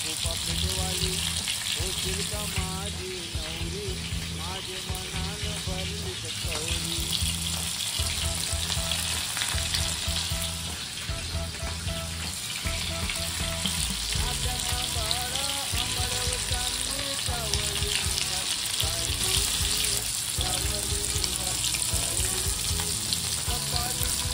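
Prawns frying in a pan over a full gas flame, a loud continuous crackling sizzle with bursts of spitting oil that holds steady throughout.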